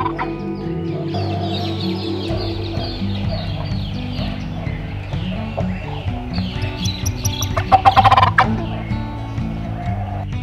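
An ocellated turkey calls in the Tikal parking lot, a run of loud, close, shrill gobbling notes that climb into a sharp, rattling burst near the end, with no voices.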